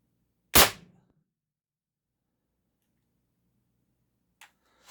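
.68 caliber shot firing an Ammo 6 mold wax slug: a single sharp, loud report, quickly decaying, followed by near silence and a faint click at the end.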